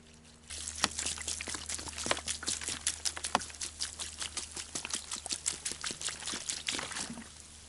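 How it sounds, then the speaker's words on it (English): Water pours steadily into a clay-lined bushcraft fire pit, a close, continuous splashing trickle dotted with sharp drips and splats, no voices over it. "I'm just going to pour the water in"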